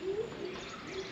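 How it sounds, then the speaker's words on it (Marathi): Morning birds, with a dove's soft cooing and light chirps, faint and brief over quiet background, no talk. "पक्ष्यांचा किलबिलाट"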